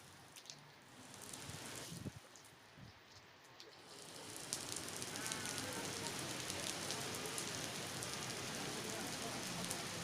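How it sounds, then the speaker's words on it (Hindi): Heavy rain falls outside Manas Airport in Bishkek, Kyrgyzstan, a soft, distant hiss at first that swells into a dense, steady downpour after a few seconds and continues unbroken. "तो बारिश बहुत तेज़ हो गई थी तो हमें वहाँ पे रुकना पड़ा थोड़ी देर के लिए।"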